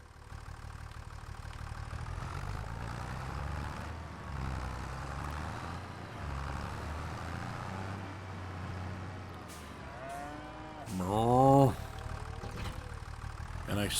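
A tractor engine idles and runs in Farming Simulator 25, a steady mid-low mechanical drone that continues throughout, with a brief louder tonal whine near the end.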